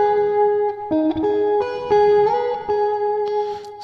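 A short guitar lick from a song, with clear bright single notes and bends played close up. The notes are picked in quick succession, and some are left to ring.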